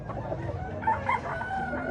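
Fighting rooster crowing at a rural cockfight expo in Pinamungajan, Cebu, two loud bursts near the middle rising over a steady crowd murmur and clucking fowl close by.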